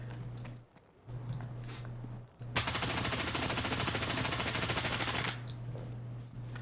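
FORA 221 bullpup rifle from the Stalker 2 video game firing a sustained automatic burst of close, loud shots for nearly three seconds, with a steady low game ambience hum underneath before and after.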